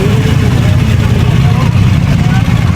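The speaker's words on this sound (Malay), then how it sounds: "Macam-macam motor ada." At a busy international bike week on Malaysia's east coast, a dense, continuous rumble of motorcycle engines fills the air, loud and close, with crowd noise and voices mixed in.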